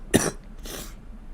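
A single sharp cough from a streamer during a toy car racing event, close and fairly loud, followed by a softer breathy clearing of the throat.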